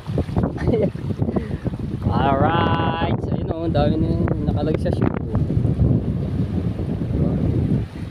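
Strong wind buffets the microphone aboard a boat, roaring steadily and close for the whole stretch. A voice talks over it midway.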